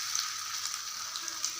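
Chicken balls deep-frying in hot oil give off a steady, close crackling sizzle with a few brighter pops, uninterrupted and with no voices.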